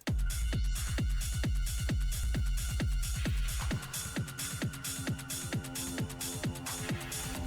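A pounding hard techno track with a fast, heavy kick drum driving steadily, then dropping into a thinner, clattering section with bright hi-hats.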